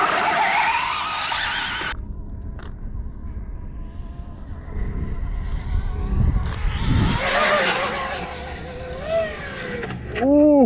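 Arrma Limitless V2 RC car on a speed run across ice, its electric motor whining loudly and rising in pitch as it passes, then trailing off in the distance, with people talking and exclaiming nearby.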